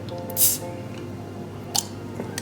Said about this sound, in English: we're gonna open this beer